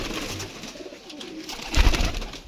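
Pigeons kept on a rooftop in Gujranwala coo in low, rolling phrases close by, with a louder burst and a brief rustle partway through and no talking.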